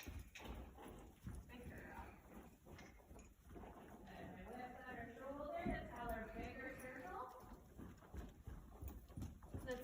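A horse named Blizzard cantering on a lunge line, a steady rhythmic drum of hoofbeats on the ground, faint and distant under a trainer's speech.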